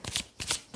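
Astrology cards riffled twice in quick succession, two short close papery bursts under a second, with no talking.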